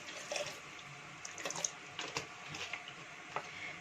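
Water is poured into a blender jar over chopped peaches, salt and sugar while making peach juice, a faint splashing trickle with small bursts and drips, heard alone.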